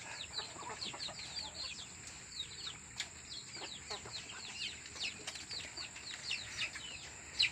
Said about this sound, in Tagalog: Ayan yung mga manok natin